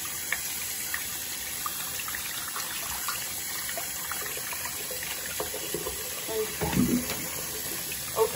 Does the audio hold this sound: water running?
yes